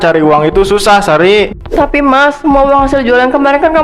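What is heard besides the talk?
No everyday noises stand out.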